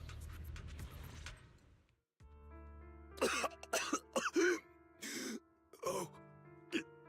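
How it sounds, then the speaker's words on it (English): A character in the video game Zenless Zone Zero coughs in a series of rough, uneven bursts, close and fairly loud, following a brief stretch of voice and background music. "You hear him cough, you hear the sad music, you know that Paolo is not doing good."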